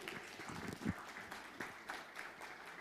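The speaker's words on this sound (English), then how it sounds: "Applause, please, ladies and gentlemen." Faint audience applause at a tuberculosis health side event conference, scattered claps heard from a distance at low level across the room.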